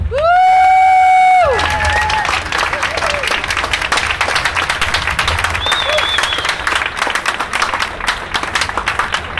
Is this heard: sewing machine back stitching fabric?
no